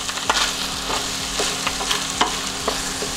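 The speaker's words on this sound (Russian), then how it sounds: "Постоянно помешиваем, чтобы лучок у нас не подгорал." Chopped onions fry with minced meat in a pan for chili con carne, a steady close sizzle broken by repeated scraping strokes of a spoon stirring through the mixture, with no voices.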